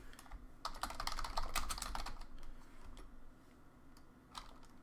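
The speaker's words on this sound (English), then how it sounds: "Let me type this in real quick." Rapid typing on a computer keyboard, quiet and close, with a fast cluster of key clicks early on that thins into scattered taps toward the end, with no voices.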